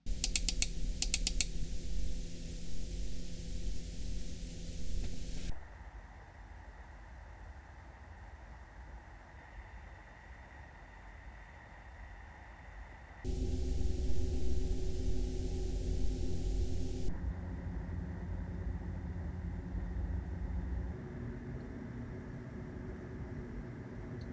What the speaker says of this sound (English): please have a listen at the sound samples of these fans